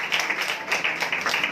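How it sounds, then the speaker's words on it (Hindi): A church congregation claps together in a quick, steady rhythm, loud and fairly close, over a brief stretch with no clear talking. "हम उस जिंदा खुदा के लिए जोरदार ताली बजाएंगे"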